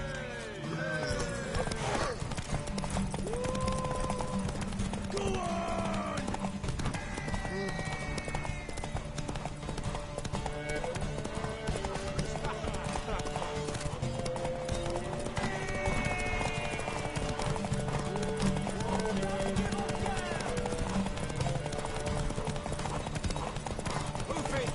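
Horse hooves clip-clop steadily at a gallop in a PS4 video game, loud and continuous for the whole stretch, with occasional whinnies and game music and effects layered over the running rhythm.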